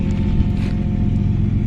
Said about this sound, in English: Nice sound of that GE chugging hard.